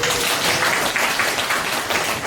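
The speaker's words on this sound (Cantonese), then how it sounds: "我哋俾掌聲位同學先" Applause for a student at a fashion design forum, a brief burst of steady clapping from an audience filling the room without pause.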